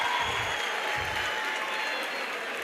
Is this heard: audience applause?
yes